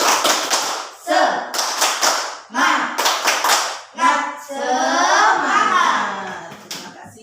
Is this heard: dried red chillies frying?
no